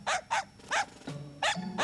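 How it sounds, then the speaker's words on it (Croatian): A dog barks in quick sharp bursts, four or five close yaps in under two seconds with a short low growly tone between them. "Ovo je taj isti pas od jutros."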